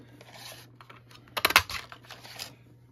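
A 2-inch paper punch cuts through a scrap of white cardstock for a holiday gift box, a sharp crunching snap in the middle flanked by softer paper rustles, close and alone with no talking.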